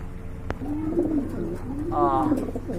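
A pigeon coos twice in a soft, throaty roll, up close, with a sharp click early on and a brief higher chirp near the end.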